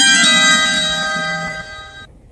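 A phone rings indoors, a loud, steady electronic ringtone with bright repeating tones that holds for about two seconds, then cuts off abruptly.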